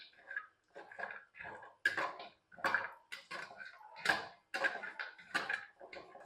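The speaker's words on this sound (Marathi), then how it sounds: "हे थोडंसं आपण तुपावर परतून घेऊ." Soft dried dates being sautéed in ghee in a pan, heard as a series of short, close scraping and clinking strokes of a spatula against the pan in an uneven rhythm, with no talk.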